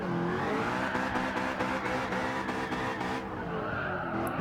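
A new Corvette slides sideways with its engine roaring and tires squealing, a loud sustained screech over the motor that eases off after about three seconds.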